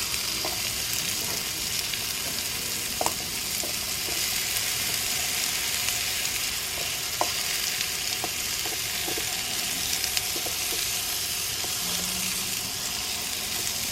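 Zucchini and onions cooking inside a Dash omelette maker, a steady close sizzle and crackle with scattered small pops and ticks over a constant hiss, no speech.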